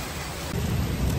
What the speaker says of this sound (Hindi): बहुत ज़्यादा बारिश है।